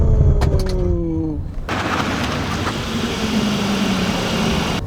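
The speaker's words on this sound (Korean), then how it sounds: "급브레이크." Audi A6 45TFSI quattro braking suddenly from speed: a falling engine whine drops away fast, then gives way to a steady, loud broadband roar inside the cabin.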